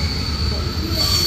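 A train departs Gara de Nord station in Bucharest, its wheels squealing in a steady high whine over a low rolling rumble of the railcars.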